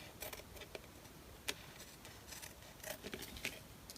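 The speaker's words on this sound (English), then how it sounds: "I just trim the excess off like this" Scissors snip around the edge of an altered playing card, trimming away excess paper in a series of soft, close cuts with a few sharper clicks, quiet and without talk.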